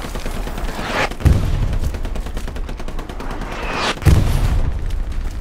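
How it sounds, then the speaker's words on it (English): Two heavy artillery impacts in the WWII video game Hell Let Loose land about three seconds apart, each a deep boom over continuous battlefield din and distant gunfire. "If we can, like, survive the artillery bombing."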